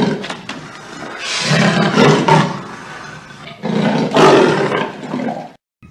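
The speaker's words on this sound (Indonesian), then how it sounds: "Ini adalah macan tutul." A toy leopard lets out two loud, drawn-out electronic roars, each swelling and fading, with a short pause between them and no talking over them.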